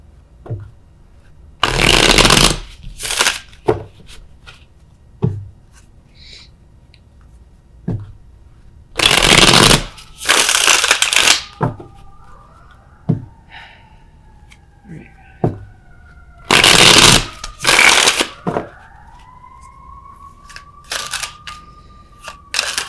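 A tarot deck is shuffled in short, loud bursts of riffling, about six clusters separated by quiet pauses, with faint thin whistling tones drifting in the background.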